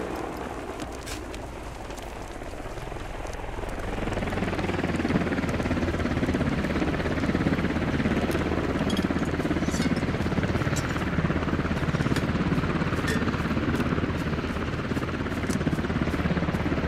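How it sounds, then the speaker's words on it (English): Enemy helicopter in the Squad video game flies overhead, a low, steady rotor roar that swells in around the fourth second and stays loud and continuous, with faint scattered clicks and no speech. "Enemy chopper heading west."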